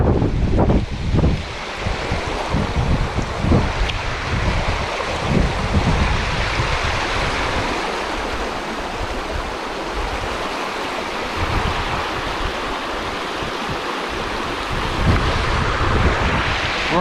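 A rushing river roars steadily nearby on a hiking trail while gusting wind buffets the microphone, a loud, continuous wash of water noise with no voices.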